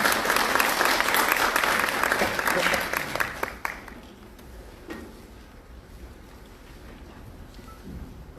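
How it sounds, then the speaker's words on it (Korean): Audience applause at a big data conference, loud and dense for about three and a half seconds, then quickly fading to scattered claps and room quiet. "큰 박수로 김재철 박사님 보내드리도록 하겠습니다."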